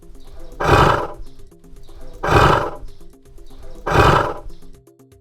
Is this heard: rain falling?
no